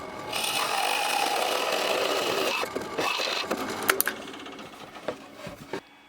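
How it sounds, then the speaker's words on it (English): A drill boring two holes with a machine tool while building a steampunk arcade machine: a steady whirring run for a few seconds, then scattered clicks, knocks and short bursts as the work finishes. "So now I am drilling 2 holes."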